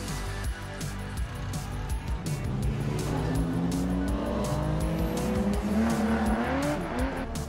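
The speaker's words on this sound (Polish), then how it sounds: "za moimi plecami zaraz wjedzie 15 samochodów" Classic cars driving in one after another at an auction presentation, engines revving and rising in pitch as vehicles roll closer, with tire squeal, a continuous loud motoring rumble throughout.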